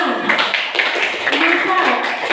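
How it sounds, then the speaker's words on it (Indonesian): Audience members at a leadership seminar clap their hands together in a loud, close burst while voices talk over the clapping. "Tepuk tangan sama dulu."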